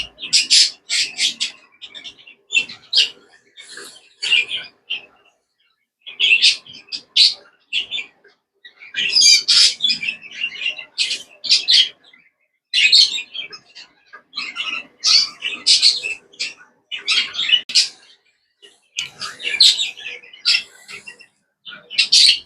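Gloster canaries, including a buff bird and a heavy variegated green, chirp and twitter in dense bright bursts with short pauses, close and fairly loud throughout.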